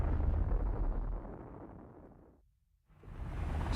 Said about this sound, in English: It explodes with a force of 10 million tons of TNT, 600 times more powerful than the bomb that destroyed Hiroshima.